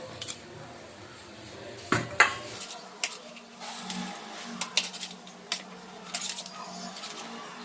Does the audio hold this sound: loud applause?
no